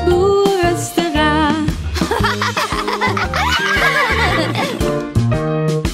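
A horse neighs over a lively, loud French children's song with bouncy accompaniment.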